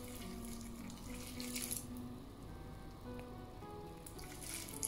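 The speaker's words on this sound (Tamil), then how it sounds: "இனி தேயிலை சாயத்தை இந்த டேட்ஸுக்குள்ளே விடுறேன்." Tea decoction is poured steadily over dates for an eggless date cake batter, giving a soft, continuous trickling splash that stays close and fairly quiet for several seconds.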